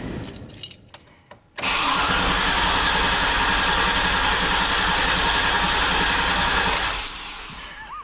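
The turbo LS engine in an Escalade cranks with the key pulled out: a few faint clicks, then a loud, steady, sustained whir of the starter close by for about five seconds before it tapers off.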